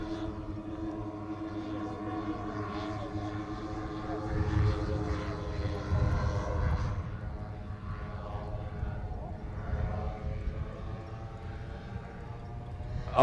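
A large 20-foot scale model C-130 aircraft flies with all four propeller engines running, a steady droning hum from across the field that swells mid-flight, with people talking over it.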